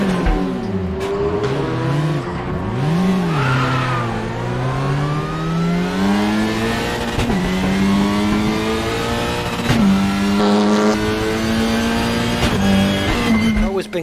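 A racing simulator game with a front-wheel-drive car, its engine starting and then revving through rising and falling pitch sweeps for about fourteen seconds, loud and steady, with someone talking over it.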